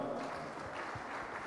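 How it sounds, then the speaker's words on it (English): An audience at an investment and economic summit claps in a soft, dense patter, faint and continuous throughout. "can we make those applause louder?"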